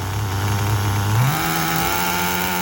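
HPI RS4 RTR3 nitro RC car engine revving up from idle, a loud close buzzing whine that climbs sharply in pitch and then holds a higher steady note.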